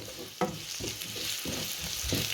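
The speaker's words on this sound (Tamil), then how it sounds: "பச்சை மிளகாய் வெங்காயம் எல்லாத்தையும் ஒன்றா போடுவோம்" Green chilies and onions sizzle steadily in hot oil left from frying mutton, with a constant crackling hiss and a few scraping stirs at intervals.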